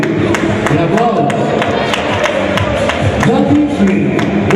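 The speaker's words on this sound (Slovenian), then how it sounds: "Aplavz!" A crowd in a sports hall claps in a steady rhythm, loud and continuous, over a dense layer of cheering and general hubbub.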